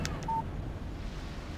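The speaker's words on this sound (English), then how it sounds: "Text message from Barry" A short electronic text message alert chimes from a phone in the Alan Wake video game, one brief clean tone over steady low background rumble, with nobody speaking.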